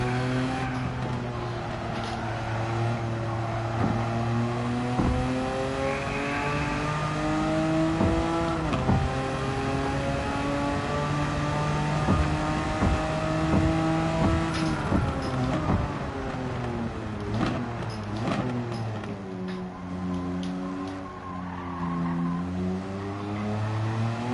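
A Porsche 959 race car engine in Gran Turismo 7 on a wet Tokyo circuit, loud and continuous, revving up and down through repeated gear shifts with no pauses across the lap.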